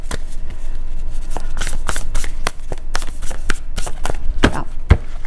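Tarot cards are shuffled by hand in quick, crisp riffles and slaps, a rapid irregular run of papery bursts close to the microphone, with no one talking.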